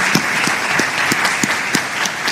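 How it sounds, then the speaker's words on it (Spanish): Audience applause at a panel on freedom of expression and electoral reform, a short burst of dense, steady clapping from many hands, close and loud, with no speech over it. "para quien pido un aplauso"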